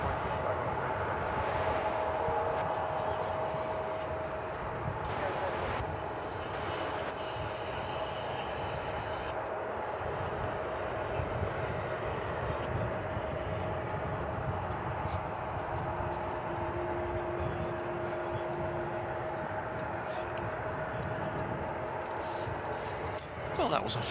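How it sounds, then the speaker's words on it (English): An Airbus A300 taxiing into position at DFW Airport, a steady distant jet engine whine and rumble under ongoing commentary, with other airport noise in the background. "bring you back to Earth for the taxiing into position of this A300 that we saw arrive just a few minutes ago"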